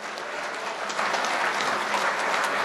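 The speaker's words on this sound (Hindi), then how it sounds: "तो आइए अशफाक देशमुख साहब को आवाज़ दें, ज़ोरदार इस्तकबाल करें आप गुदगुदी के साथ उनका" Steady applause from a mushaira audience in Qatar welcoming a poet, dense and continuous clapping that swells slightly midway, with no voices over it.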